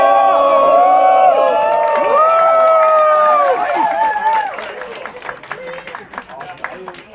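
A crowd cheers and whoops loudly with applause that gradually thins out into scattered claps.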